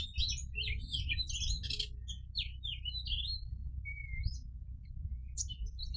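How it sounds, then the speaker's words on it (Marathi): A small sparrow chirping in a village setting among flowers, with quick bright repeated tweets in bursts over a steady low rumble, fairly close and without talk. "ही चिमणी किती लहान आहे."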